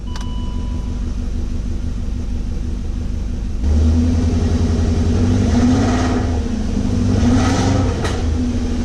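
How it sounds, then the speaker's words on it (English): A BMW 4.4-liter V8 with a broken exhaust rumbles at idle, then revs up with a loud, raspy exhaust roar that rises and falls a couple of times. "It's got a broken exhaust, but the car's not misfiring at all like it was."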